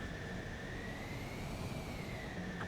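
A fighter jet in Ace Combat 7 comes in for a belly landing, its engine a steady, continuous roar with a thin whine drifting slowly in pitch, heard alone at moderate level.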